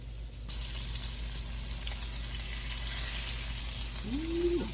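Chicken thighs brown and sear in a hot pan, giving a steady, close sizzle that holds evenly throughout, with a short squeak near the end.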